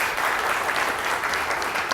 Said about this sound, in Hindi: तालियां होनी चाहिए इसके लिए।